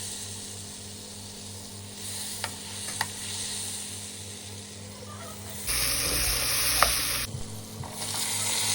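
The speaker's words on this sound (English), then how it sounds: "I melted some butter in the same pot." Butter sizzles and crackles steadily in a pot on the stove, with occasional soft clinks. Midway the frying hiss grows louder and brighter for a moment before settling back. No one speaks.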